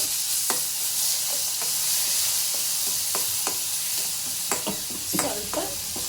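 Mustard seeds and green chilli paste frying in a pan, a continuous bright sizzle with scattered crackles and pops from the seeds plus a few scraping stir strokes, close and alone.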